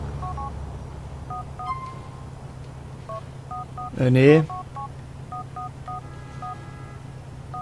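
Short electronic mobile phone ringtone previews in GTA IV play as sequences of brief beeping tones, with someone speaking briefly in the middle over faint background hum.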